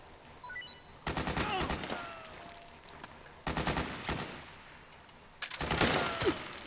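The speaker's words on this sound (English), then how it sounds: "Suppressing fire!" Suppressing gunfire in the video game Metal Gear Solid 4: Guns of the Patriots, with three loud, rapid automatic bursts separated by short pauses, a faint voice underneath.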